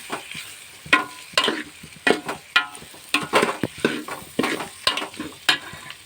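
Asafoetida is stirred into bitter gourd curry in a pan, making repeated rhythmic scraping strokes, roughly one or two per second. Each stroke is close and fairly loud over a light sizzle.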